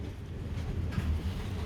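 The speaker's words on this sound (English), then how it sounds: "it's really windy today." Low, buffeting gusts of wind rumble against the microphone, steady and muffled with a brief stronger push partway through.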